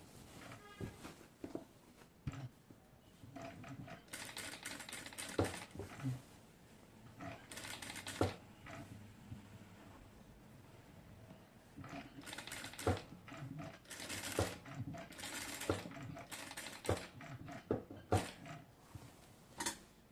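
A sewing machine stitches a dress neckline in stop-start runs of quick mechanical chatter, separated by quieter pauses with faint handling noises, fairly close and moderately quiet.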